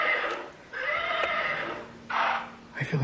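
A child's toy rocking horse plays its electronic whinnying sounds, two loud neighing bursts with a brief pause between them, fairly close in a quiet room with a faint background hum.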